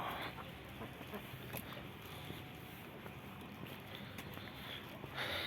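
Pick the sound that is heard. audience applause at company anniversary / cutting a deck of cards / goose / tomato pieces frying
goose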